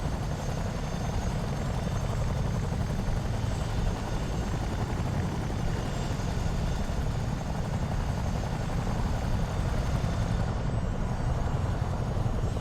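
A CH-47D Chinook helicopter in Microsoft Flight Simulator 2024 gives off a constant, heavy rotor drone with deep low rumble, steady and unbroken throughout, with no voices.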